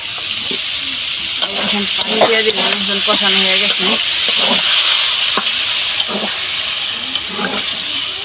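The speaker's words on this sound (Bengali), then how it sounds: "ভাবি রান্না করতেছে" Food cooks on a stove with a loud, steady hiss of frying that runs throughout, while faint voices briefly murmur in the background.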